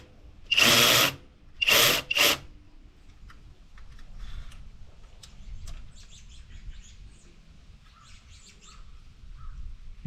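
A 10mm bolt comes out of a 2022 Honda Civic Si with three short, loud whirring bursts from a power tool close by, then quiet workshop background with faint chirps.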